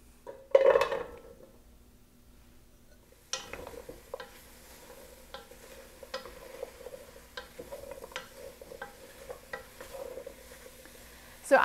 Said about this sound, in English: So I am cooking my zucchini on a medium heat, and I am stirring it constantly.